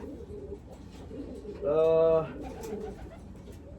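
A pigeon gives one clear, resonant coo close by at a pigeon loft, rising above faint background talk and ambient noise.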